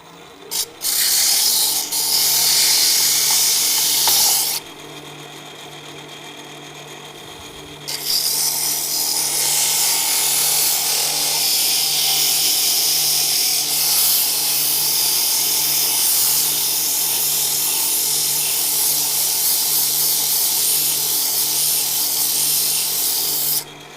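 Sandpaper rasps loudly against a wooden whiskey tumbler spinning on a lathe, a continuous gritty rubbing over the motor's hum, pausing briefly after the first few seconds and then resuming for the rest.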